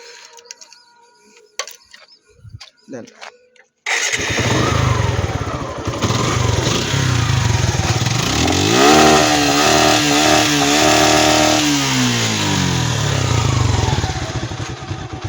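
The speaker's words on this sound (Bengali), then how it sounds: "আমরা এর সাউন্ডটা একটু ইঞ্জিনের সাউন্ডটা একটু দর্শককে শোনাতে যাচ্ছি চাবি দেয়া" A Suzuki Gixxer monotone motorcycle, about seven years old, fires up after a few quiet handling sounds, then idles loud and steady with a throaty rumble and a rising, falling rev in the middle, close by and with no talk.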